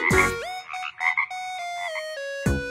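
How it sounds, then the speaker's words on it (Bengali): A frog croaks in several close, clear calls. The sound is moderately loud and stands alone, with no talk. "উমতে ব্যাঙ।"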